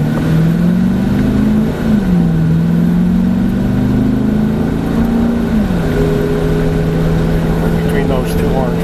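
A Dodge Challenger muscle car's engine drones steadily and loudly as it pulls away and accelerates toward 40 mph, its pitch wavering slightly and lifting midway before settling into a constant cruise.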